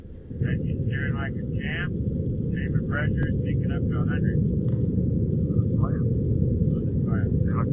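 A steady low rumbling roar from a lunar lander's vertical thrust engine in the Lunar Flight VR game runs throughout, with someone talking over it.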